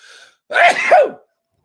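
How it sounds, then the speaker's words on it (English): A single sharp human sneeze with a quick intake before the burst, close and loud, in a quiet room with a faint voice just before it. "Got to sneeze"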